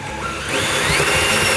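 A power drill bores through a subway tile backsplash into the wood behind it, giving a loud, steady whine that rises in pitch as the bit works, close and uninterrupted.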